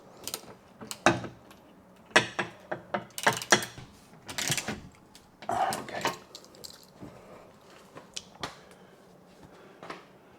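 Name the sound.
ratchet driving the last screw while mounting a storage rack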